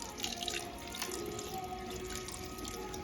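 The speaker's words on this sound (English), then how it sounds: "And rinse your cloth out." Water splashing and trickling in a kitchen sink as a cloth is rinsed, a steady wet swish close by with small drips.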